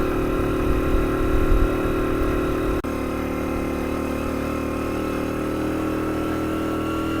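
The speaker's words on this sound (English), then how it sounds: "I am driving quite a lot of revs in the second gear" A 50cc semi-automatic motorbike in Vietnam is held at high revs in second gear while it struggles. The engine drones steadily and close by, with a brief dip just before the three-second mark.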